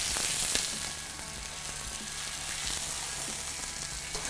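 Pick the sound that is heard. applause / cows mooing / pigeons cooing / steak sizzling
steak sizzling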